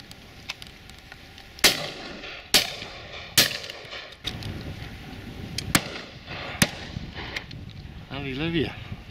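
Shotguns fired at pheasants and partridges on a driven shoot, several sharp cracks spaced a second or so apart over an outdoor background, with a voice briefly at the end.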